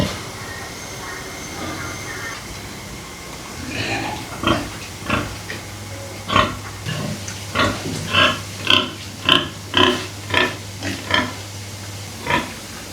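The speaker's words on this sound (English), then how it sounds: "The pigs are raised close to the house, making it easier for the couple to take care of them every day." Pigs on a rural Vietnamese family farm, kept near the house, grunt and oink in a quick run of repeated calls that grow busier and louder toward the end, over a steady low hum.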